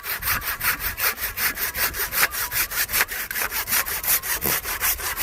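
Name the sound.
handsaw cutting a grapevine branch during winter pruning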